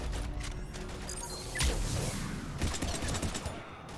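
Bursts of gunfire in the Mass Effect 3 video game, rapid shots and sharp impacts crackling amid combat noise, with a loud blast near the middle and more clattering fire after.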